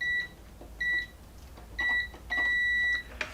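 Multimeter continuity tester on a Lawn Boy mower's ignition wiring, giving four short electronic beeps, the last one longer and steady, clear and close over a quiet background with no talking.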